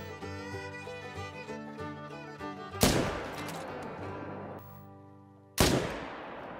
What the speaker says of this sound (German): machen wir einfach mal einen 300-Meter-Schuss